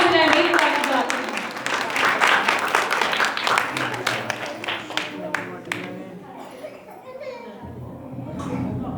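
A congregation at a Christmas church service claps loudly for God, dense applause mixed with children's voices and chatter that gradually thins into scattered claps and talk.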